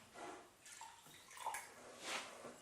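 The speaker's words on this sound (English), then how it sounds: "Now I'm going to add the water into the sugar" Water pours into a bowl of sugar with a soft, continuous trickling splash, close and quiet, with no talk.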